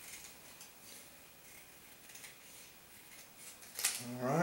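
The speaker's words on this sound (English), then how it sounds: "we'll use the small scissors to cut between the numbers" Small scissors cut between printed decal numbers, giving one crisp snip close by near the end, just before a voice starts speaking.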